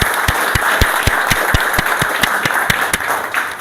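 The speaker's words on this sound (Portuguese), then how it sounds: "Eu penso que essas palmas é para a senhora vir morar em Itaara, lá no meio do mato." Rhythmic, evenly spaced hand claps from an audience at a symposium in Itaara, Brazil, a steady clapping beat over a dense wash of applause, loud and close, no speech.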